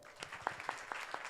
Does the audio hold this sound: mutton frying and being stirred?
no